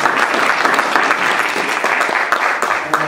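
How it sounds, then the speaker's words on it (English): A lecture audience gives lecturer Kent Johansson a warm round of applause, with dense, loud, sustained clapping from many hands that carries on without pause. "give him a warm round of applause"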